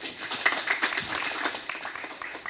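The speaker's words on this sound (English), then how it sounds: "I really want to invite all of us to give them a big round of applause" Audience clapping for the partners at the launch of a civic education handbook in Uganda, a brief burst of scattered, moderately close applause that tapers off quickly.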